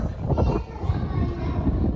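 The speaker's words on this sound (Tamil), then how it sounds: "செம்மையாக காற்றடிக்குது," Steady low roar of wind buffeting the microphone at Doddabetta Peak near Ooty, continuous and loud throughout with gusty swells.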